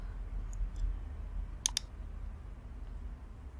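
Two sharp mouse clicks close together, near and crisp, over a quiet room hum with a couple of faint ticks earlier; no talking.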